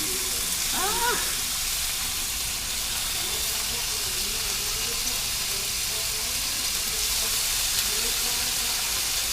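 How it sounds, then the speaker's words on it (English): Four strips of bacon frying in a pan, a steady, even crackling sizzle throughout with a soft hiss, close and continuous, broken by a brief short squeak near the start. "So now, as that bacon's cooking"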